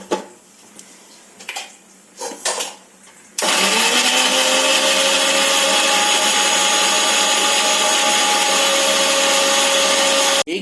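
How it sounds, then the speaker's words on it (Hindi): Some faint clatter, then a mixer grinder starts abruptly and whirs at a loud, steady high pitch for several seconds, blending a raw banana paste, before cutting off. "और अब हमने इसे मिक्सी पे लगाया,"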